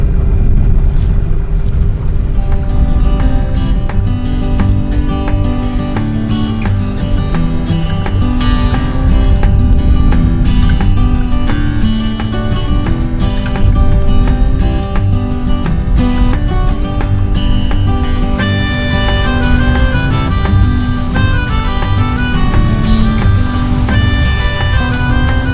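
Strong wind roars over a sailboat at sea off Queensland's Keppel and Percy Islands, with water rushing along the hull and rigging humming in a loud, continuous wash.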